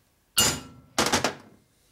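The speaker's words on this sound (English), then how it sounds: "you take your appropriate hammer and drive it in there" A hammer strikes a bushing being driven into a 1965 Harley panhead 74ci FLH motor: one sharp metallic blow, then a quick cluster of three ringing hits, close and clear with no talk.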